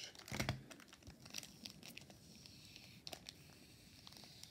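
Tape is peeled and torn off a Pokémon advent calendar pack, giving faint, close crinkling and ripping with a louder tear near the start and scattered smaller rustles afterward.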